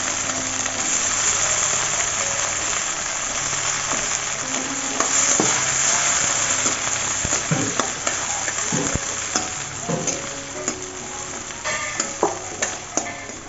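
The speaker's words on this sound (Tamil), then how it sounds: "இப்போ கொஞ்சம் எண்ணெய் விட்டு ஒரு கைப்பிடி அளவு பூண்டு, அது நல்லா வணங்கினதுக்கப்புறம் சின்ன வெங்காயம் 2 கை போட்டு நல்லா வணக்கிக்கலாம்" Garlic and small shallots sauté in oil in a pan for fish kuzhambu, sizzling steadily while a spoon clatters and scrapes through them in irregular strokes, close by.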